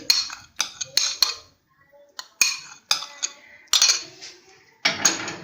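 A spoon works yogurt paste in a cup for homemade curd, giving a series of close, sharp clinks and scrapes in irregular bursts with short quiet gaps between them.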